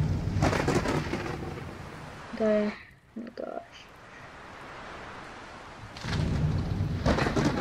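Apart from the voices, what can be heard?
thunderstorm with rain in Roblox video game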